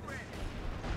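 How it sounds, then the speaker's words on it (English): A grenade goes off in Company of Heroes 2 amid wartime battle, a short rumbling blast mixed with gunfire-like crackle at moderate loudness. "Oh, they threw a grenade on it."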